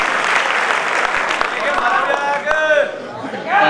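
Audience at an All India mushaira and kavi sammelan at Chaudhary Charan Singh University applauding poet Afzal Manglori, a dense crowd clapping close and loud, with voices rising over the clapping toward the end.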